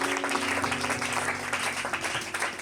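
A church congregation bursts into applause during a worship service, a dense, sustained clapping that fills the room for the whole moment, with steady tonal sound from the service beneath it.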